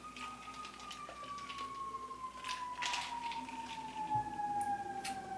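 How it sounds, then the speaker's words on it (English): A faint siren wails in the distance, its tone sliding slowly and steadily downward over a low background hum. "Oh, a little bit of a siren there in the background."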